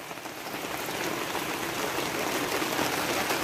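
Heavy rain pours steadily in Bulacan, a dense, even hiss of drops drumming on surfaces close by, holding a constant loud level throughout with no voices.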